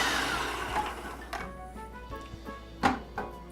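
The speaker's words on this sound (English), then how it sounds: "we take and pulse this for a couple seconds" A food processor pulses a teaspoon of salt with flour for pie crust, a loud whirring burst at the start that winds down, followed by a few clunks and rattles of the bowl and lid.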